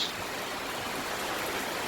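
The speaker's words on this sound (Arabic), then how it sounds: "تشوفون المطر" Steady rain falls in a nature reserve in Georgia, giving an even, continuous hiss of drops with no pauses and no voices.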